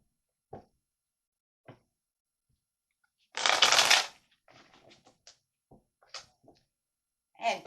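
A tarot deck is shuffled in one loud riffling burst, followed by scattered soft card taps and flicks against a quiet background.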